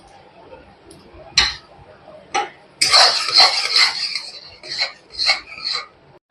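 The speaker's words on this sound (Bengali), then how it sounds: "মশলাটাকে খুব ভালো করে এইভাবে নাড়াচাড়া করে কষিয়ে নেব।" Masala with onion, capsicum and paneer being stirred in a pan, heard as a series of sharp metallic spatula scrapes and clinks against the pan, with a dense burst of scraping in the middle and quiet gaps between strokes.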